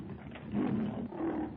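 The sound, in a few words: great beast's dying roar, radio drama effect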